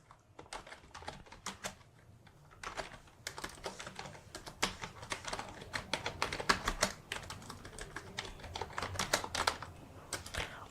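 Someone types text on a computer keyboard in PowerPoint, producing quick irregular runs of close, light key clicks with short pauses between bursts.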